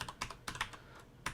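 Computer keyboard keys tapped in quick irregular bursts while a file name is entered on a Windows PC, soft close clicks with short pauses, no talk.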